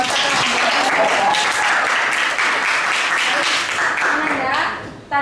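A classroom applauding a student, loud, dense clapping from many hands that holds steady for several seconds before tapering off, with a voice speaking briefly at the end.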